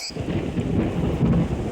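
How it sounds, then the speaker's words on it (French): A nighttime thunderstorm rumbles, with steady heavy rain and rolling thunder swelling and holding loud for nearly two seconds, no voices. "Soudain, en pleine nuit, un orage éclate."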